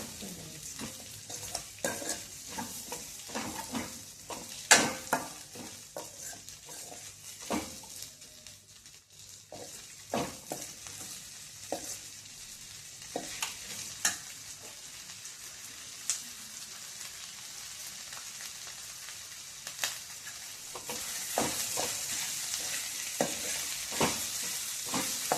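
Onions sautéing in a pan for cucumber mor kuzhambu, a continuous soft sizzle broken by frequent scraping stirs and clinks, steady and close throughout with no talking.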